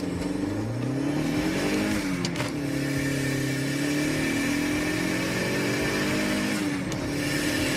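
A Dodge Neon SRT4 with a turbocharged four-cylinder engine revs hard and steadily close by, its pitch climbing and falling through several throttle blips with no talking.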